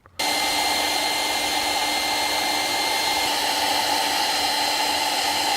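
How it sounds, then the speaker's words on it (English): A broken hair dryer used as a heat gun on heat-shrink tubing switches on and runs with a steady, loud whirring blow and constant motor hum, close by and unchanging. "my heat gun, which is this one, is a broken hair dryer"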